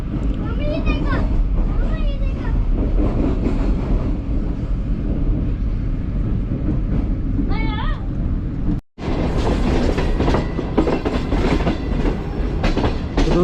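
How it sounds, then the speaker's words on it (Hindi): Shalimar Express train rolling into Rohri Junction station in Pakistan, a steady loud rumble of rail cars with clicking wheels and squeals, speech over it throughout, a brief dropout near the end before the clatter resumes. "हमारी ट्रेन वो एंटर हो रही है रोड़ी जंक्शन रेलवे स्टेशन पर"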